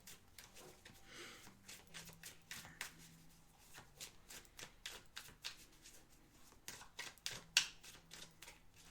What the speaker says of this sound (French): Juste par curiosité, je prends une troisième carte.